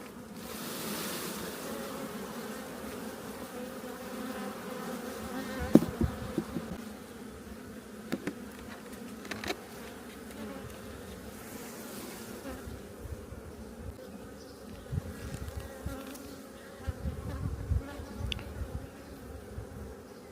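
Buckfast honey bees hum continuously around an open hive during a hive split, a soft, close swarm of buzzing with occasional light knocks and handling noises.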